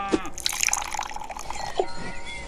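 Water dripping from a toy, a few soft close drips and trickles over a short moment, with faint background noise.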